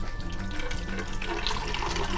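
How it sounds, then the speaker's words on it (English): Warm tea is poured from a measuring cup into a pitcher, making a steady liquid splash and gurgle that runs close and continuous for the whole stretch, with no talking over it. "I am going to pour it in my pitcher and add my water"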